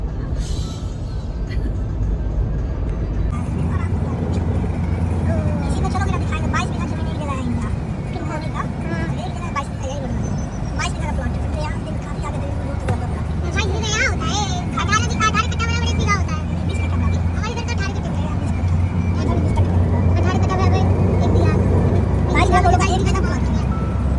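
A car travels along a road on the way to Rajgir, its steady engine and road rumble running loud and continuous throughout, with people talking over it.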